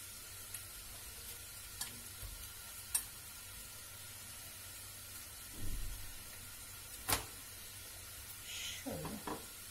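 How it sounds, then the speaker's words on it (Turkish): Börek cooking in a pan, a steady soft sizzle and hiss throughout, faint and continuous, with occasional light clicks and knocks of kitchen activity. "Böreğimiz de pişiyor."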